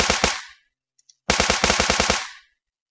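Sniper rifle gunfire in The Mining Dead zombie survival game: two loud bursts of rapid shots, separated by a short silent gap, with no talking.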